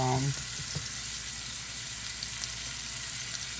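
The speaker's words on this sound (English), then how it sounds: "I'm going to put my mushrooms on, and I'm going to get them going." Mushrooms sautéing in butter and olive oil in a hot pan, a constant close hiss of sizzling with a brief voice and a clink at the very start.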